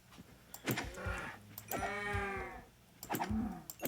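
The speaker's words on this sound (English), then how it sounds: "When you hit a cow, that's what a cow sounds like when you hit it." A cow in a video game lets out short, nasal, bleat-like moans as it is struck, a few in a row. Faint clicks sound underneath.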